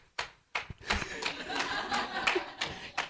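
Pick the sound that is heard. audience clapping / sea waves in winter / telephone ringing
audience clapping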